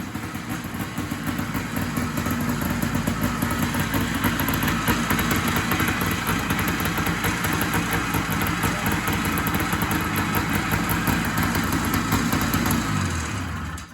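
A snowmobile race sled engine on stock carburetors runs close and loud, a continuous buzzing drone holding steady for over ten seconds before cutting off at the end.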